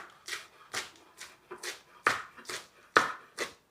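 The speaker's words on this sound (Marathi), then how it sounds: "मी पालक असा एकदम बारीक चिरून घेते" Fresh spinach being finely chopped with a knife on a board, a steady run of crisp separate cuts, about a dozen close, clear strikes with short quiet gaps between them.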